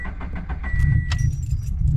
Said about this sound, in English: so car started right up though